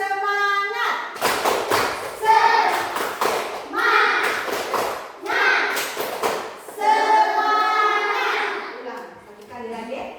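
Children in a classroom perform a rhythmic clapping chant, sharp claps and thumps falling in quick patterned groups between sung and spoken phrases, with a teacher's voice also present.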